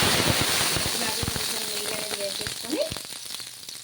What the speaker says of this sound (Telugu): ఇలా ఇంకో సైడ్ కూడా తిప్పేసుకొని రెండు వైపులా బాగా కాల్చుకోవడమే